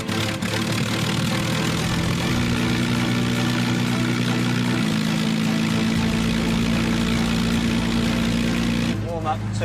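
A Spitfire's piston aero engine catches and runs after the propeller start, a loud steady low drone with shifting pitch as revs settle, continuing throughout with a brief burst of voice near the end.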